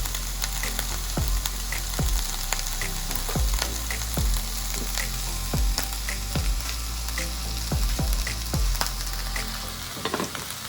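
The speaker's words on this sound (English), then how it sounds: "I'll be cooking some noodles in this boiling water." Noodles for Sichuan dan dan noodles cook in a pot of boiling water at home, with a constant close bubbling hiss and sharp knocks of a utensil against the pot about every second.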